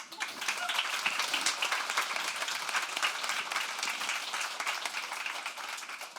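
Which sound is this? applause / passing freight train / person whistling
applause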